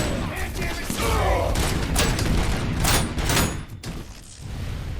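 Robocop: Rogue City gunfire, a dense stretch of repeated shots and impacts within loud game noise, thinning toward the end, with a voice speaking over part of it.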